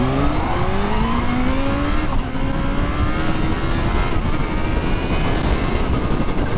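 A Kawasaki Z-H2 motorcycle accelerates hard in first gear, its engine note climbing steadily in pitch through a loud, close run, dipping briefly before pulling on again as speed builds.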